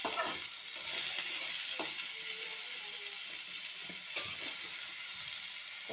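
Potatoes and softened carrots stirred and fried in a pan, a steady close sizzle with scraping spatula strokes and a few sharper clicks of utensil against metal.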